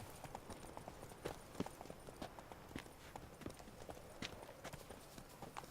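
Horse hooves clip-clop steadily in The Witcher 3: Blood and Wine, near a tournament race starting point, with a quiet, regular rhythm of distinct hoof strikes and no talk.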